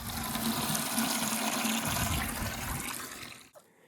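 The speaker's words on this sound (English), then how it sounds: "So just got to fill their water for now." Tap water pours steadily into a container to refill drinking water for homestead animals, a broad rushing splash lasting about three seconds before cutting off abruptly, close to the microphone with no talking.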